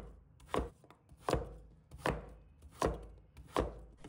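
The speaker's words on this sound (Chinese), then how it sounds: "然后将芋头切成小块，稍微切厚一点" A knife chops firm taro into small, slightly thick pieces, five crisp evenly spaced cuts striking the board close up with no one speaking.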